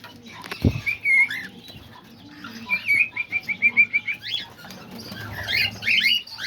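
Pet cockatiels chirp in a series of short, bright repeated calls, with a rhythmic burst in the middle and more scattered chirps near the end, over faint background rustling and one low thump near the start.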